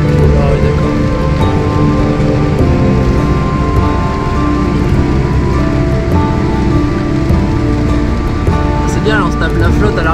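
Heavy rain drums steadily and loudly during a very electric July thunderstorm, a dense continuous wash with water pouring at the back, while people talk over it.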